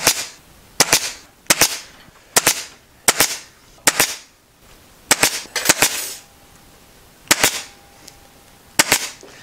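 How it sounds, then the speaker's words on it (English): Sharp, loud staple gun shots drive 14 mm staples into couch upholstery, about a dozen close percussive snaps fired in irregular bursts with brief pauses between. "So I'm just going to change to a longer staple. So that is a 14 mil staple. So that's likely to drive in a bit further."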